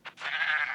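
A goat in the Minecraft video game gives one short bleat, a brief nasal blip followed by a longer wavering cry, close and clear with no talk over it.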